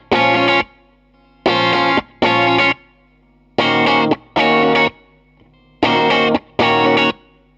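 Electric guitar through a heavy compressor pedal with compressed mids, playing short chords in a choppy dance rhythm, seven evenly loud bursts separated by silence.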